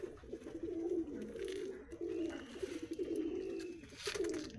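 Pigeons coo steadily in a high-flying pigeon loft, a continuous low rolling murmur of several birds overlapping, with faint rustling and no talk.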